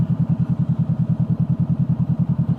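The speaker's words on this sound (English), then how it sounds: "the idle control will pull the motor up" A Honda CB500F motorcycle engine idles steadily up close, a loud, even low thrumming pulse with regular beats and no speech.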